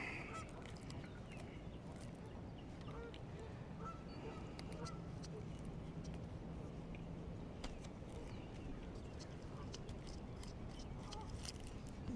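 A goose honks near its nest by the water, repeated faint calls at a distance over steady outdoor noise and the movement of a kayak.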